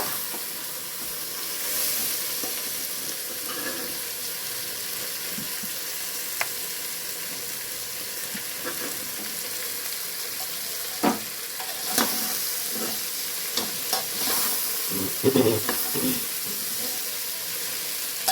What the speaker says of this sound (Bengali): ভালো করে মিশিয়ে নেওয়ার পর তারপরে শাকটা দেব, দিয়ে আবারও ভালো করে মিশিয়ে নেব